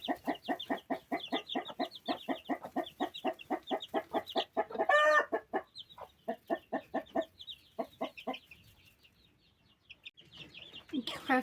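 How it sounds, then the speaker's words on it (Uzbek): Week-old chicks cheep in fast, regular bursts of high, piping peeps, loud and close, with a brief louder call in the middle and a quieter pause before the cheeping resumes. "Haftalik jo'jalar bo'pti."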